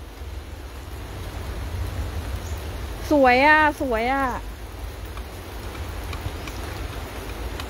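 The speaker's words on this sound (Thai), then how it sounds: "ฝนตกแล้ว" Rain falls on an outdoor kale and vegetable garden as a steady, even hiss that fills the whole stretch, with a brief burst of speech over it partway through.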